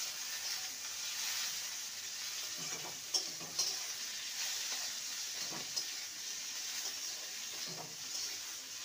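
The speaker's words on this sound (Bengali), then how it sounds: "ভালো করে নেড়ে নেব।" Chopped capsicum and tomato fry in a pan with potato and carrot, giving a steady close hiss and sizzle, while a few soft scrapes and knocks from stirring come through the frying.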